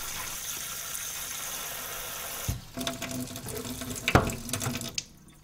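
Water poured onto a tray of wheatgrass for a thorough drink: a steady splashing, running-water hiss that breaks off midway, then resumes as uneven trickles and a sharp splash before tapering off, with no voices.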